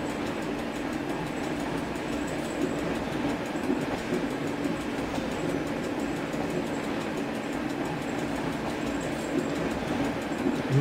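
Electric train coasting without traction power between Lubliniec and Fosowskie, heard from on board as a steady, continuous rumble of wheels on rail with faint rhythmic clatter and no other sound.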